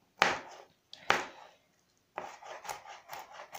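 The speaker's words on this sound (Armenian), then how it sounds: "Ահա, հիմա այստեղ աղջիկս է կտրատում, մանր-մանր կտրատենք" Knife chopping salad ingredients finely on a board, a girl doing the cutting: a few sharp isolated cuts, then a steady run of quick rhythmic chops, close and fairly clear with no talk.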